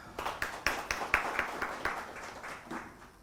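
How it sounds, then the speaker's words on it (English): Sparse applause at a sales master class event, a handful of distinct claps in a loose rhythm from a small audience, tapering off and fading out toward the end. "Another round of applause."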